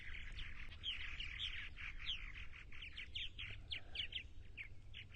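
Purple martins calling and chattering at close range beside their nesting gourds on eastern Long Island, a dense run of bright chirps and warbles over a steady low rumble.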